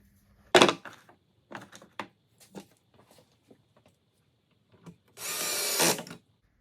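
A power drill with a square bit driver drives Kreg screws into a wooden drawer box, with a short whir early on, scattered knocks and handling clatter, then a louder, sustained whirring run close to the end.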